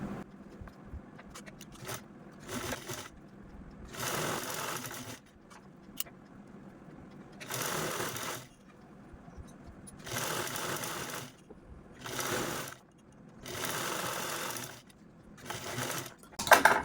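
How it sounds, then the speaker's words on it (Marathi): Domestic sewing machine stitching fabric pieces for a cap, running in several short bursts of rapid whirring separated by pauses, fairly close and without talk. "तर चला आता शिलाई मशीनवरती दाखवते मी"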